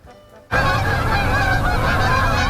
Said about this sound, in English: Hundreds of geese fly over Loon Lake every day.